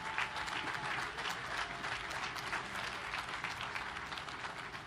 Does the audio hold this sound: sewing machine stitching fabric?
no